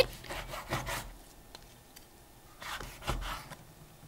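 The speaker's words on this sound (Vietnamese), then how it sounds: "Đầu tiên thì mình cắt lát thành từng miếng mỏng, độ dày khoảng 1 cm." A knife slices pork belly into thin pieces about 1 cm thick on a cutting board, making a few close, rasping strokes in two clusters with quiet pauses between them.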